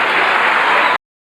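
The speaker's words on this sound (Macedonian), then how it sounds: "Ще поздравим с един аплауз." An audience applauding at the Profest 95 concert, a loud, dense wash of clapping for about a second that stops abruptly, then briefly starts again.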